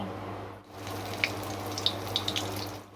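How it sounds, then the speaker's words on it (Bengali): Egg and potato puri frying in soybean oil, giving a steady close crackle and sizzle with a few brighter pops and spits scattered through. "পরিমাণ মতো সয়াবিন তেল দিয়ে দিয়েছি। এবার পুরিগুলো ছেড়ে দিব।"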